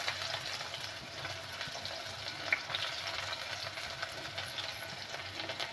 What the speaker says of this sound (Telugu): కట్ చేసుకున్న ఉల్లిపాయ ముక్కలు, పచ్చిమిర్చి ముక్కలు వేసుకోవాలి